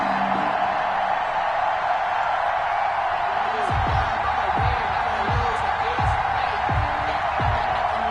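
Stadium crowd roaring in an NFL football video game ahead of a New York Jets versus Philadelphia Eagles matchup: a dense, steady wall of cheering with scattered whoops rising out of it, loud and continuous.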